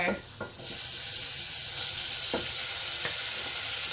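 Bacon fries in a pan with a little added fat, giving a loud, continuous crackling sizzle close by, with a few sharper pops and ticks scattered through it.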